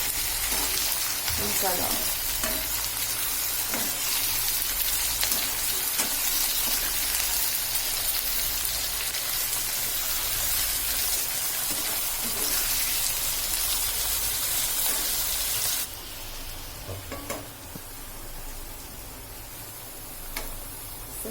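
Onions fry in a pan for chicken dum biryani, a continuous dense crackling sizzle that suddenly drops to a quieter, duller sizzle toward the end, with a few words spoken over it.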